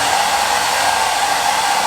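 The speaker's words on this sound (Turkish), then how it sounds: "Daha sonrasında tabii ki de saç kurutma makinesini kullanıp saçımızın nemini biraz alıyoruz." A hair dryer blows steadily and loudly while drying long hair, a constant close-up whooshing roar with no variation and no voices.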